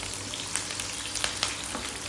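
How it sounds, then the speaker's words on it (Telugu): Green chillies frying in oil in a pan over a very low flame, giving a steady soft sizzle with small crackling pops, fairly close and alone with no talk. "బాగా గోల్డ్ కలర్ వచ్చేంత వరకు వేయించుకోవాలి"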